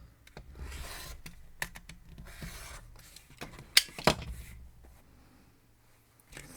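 Quilt fabric being trimmed for a combination star block, a quiet series of dry cutting and scraping strokes with soft rustling and a few sharper clicks in the middle, with no talking.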